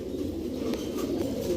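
Pakistani Bagha pigeons, a large breed, coo softly at close range in a low, rolling murmur that carries on steadily without talk.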